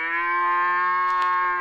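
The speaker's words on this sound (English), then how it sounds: "a cow began to bellow." A cow bellows in one long, sustained moo with rich harmonic layers, loud and close, holding steady throughout with no other sounds.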